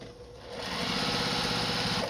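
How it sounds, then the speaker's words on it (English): A sewing machine stitches a short seam on a quilt binding strip, starting up and quickly settling into a steady, loud mechanical whirring hum, close by and without any voice. "I should be good to go to just sew that little seam right there"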